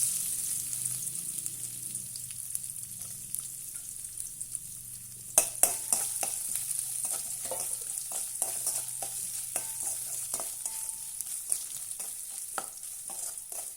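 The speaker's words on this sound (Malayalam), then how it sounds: "എണ്ണ നന്നായി ചൂടായിട്ടുണ്ട്. അതിലേക്ക് നമ്മൾ കട്ട് ചെയ്ത് വെച്ചിരുന്ന തേങ്ങ ഇട്ട് കൊടുക്കാം." Cut coconut pieces dropped into hot oil, bursting into a sudden crackling sizzle that keeps popping and spitting steadily under a high, constant frying hiss.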